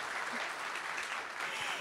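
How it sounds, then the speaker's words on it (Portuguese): Audience applause at a tech event for a speaker named Adriana, an even wash of clapping from a crowd, continuous and moderately distant. "Palmas para Adriana."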